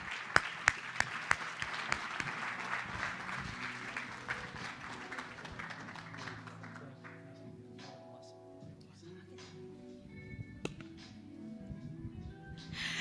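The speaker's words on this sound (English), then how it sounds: "Let's give them a round of applause as well." Audience applause at a leadership summit in Singapore, dense clapping at first that thins out over several seconds, leaving scattered claps and background murmur with a voice starting up.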